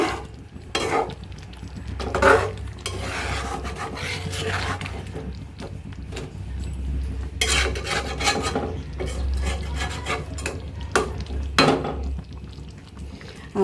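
A curry being stirred in a pot near the end of cooking, with close, intermittent scraping and rasping of a utensil against the pot over a low simmering rumble, no talk.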